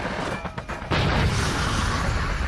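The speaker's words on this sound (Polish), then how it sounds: "Kurwa, dwa wybuchy naraz, pięknie." A sudden booming blast from the Just Cause video game erupts about a second in, with two explosions going off at once and then a dense, sustained rumbling roar that carries loudly to the end, with no talk.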